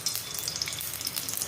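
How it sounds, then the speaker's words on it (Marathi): Ghee poured into a hot kadhai while making corn masala sizzles in a steady, dense crackle with soft watery hiss, close and continuous without pause. "हे कढईमध्ये मी तूप टाकून घेते."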